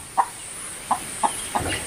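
Chickens clucking nearby in a village yard, four short separate clucks spaced irregularly over a steady background hiss, with no voices.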